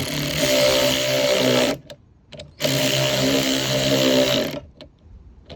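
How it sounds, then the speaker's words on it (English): A loud, steady whirring of a power tool tightening a nut on a 2006 Jeep LJ runs in two long bursts separated by a short pause, then a few quieter clicks and a resumed whir. "you're tightening this with the power tool"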